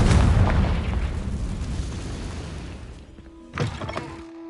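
A Confringo spell detonates in Hogwarts Legacy, a loud booming blast with a long rumbling tail that fades, then a second sharper burst and crackle near the end.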